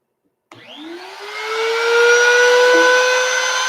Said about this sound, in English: Okay, the router's running,